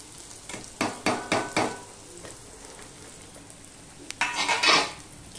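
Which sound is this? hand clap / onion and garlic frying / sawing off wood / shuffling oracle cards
onion and garlic frying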